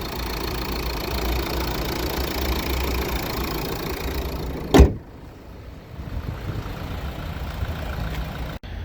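A 2020 Renault Megane 1.5-litre 110 hp diesel engine idles with a steady, knocking rumble, close up; a brief louder thump interrupts midway, then the idle continues a little quieter.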